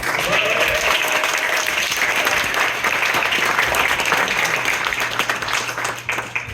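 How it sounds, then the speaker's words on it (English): Sustained outdoor crowd applause for actors after a gunfight reenactment in Tombstone, Arizona, with energetic clapping throughout, a few voices faintly mixed in, thinning slightly near the end. "please, another round of applause for the actors"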